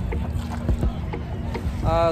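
Low engine hum of a boat on the river at Triveni Sangam, Prayagraj, with rhythmic water splashes and knocks, as a voice speaks briefly near the end.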